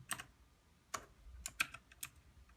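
Keys click on an E-Element Z-88 RGB mechanical keyboard: five or six sharp, close, isolated clacks spaced irregularly over a quiet background, with no talking.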